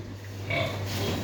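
Pigs give a short low grunt nearby, brief and moderately loud over a steady low hum.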